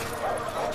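A dog yips and whimpers close by in the video game Far Cry 5, one short bark-like burst mixed with game background sound.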